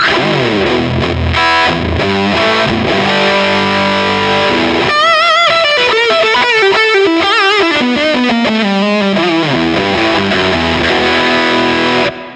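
Heavily overdriven electric guitar through a Marshall-style high-gain overdrive pedal with gain about three-quarters up, thick saturated distortion, chugging chords then sustained bending lead notes, loud and continuous throughout.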